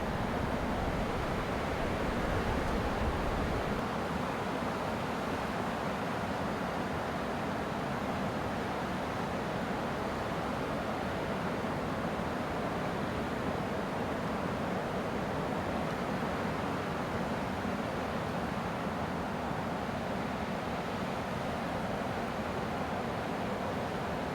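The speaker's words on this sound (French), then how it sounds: "Le dégel des rivières s'annonce par le morcellement de leurs carapaces de glace et le bruit des masses d'eau" Steady, broadband rush of a thawing river, continuous and fairly loud throughout, like a river running high with meltwater.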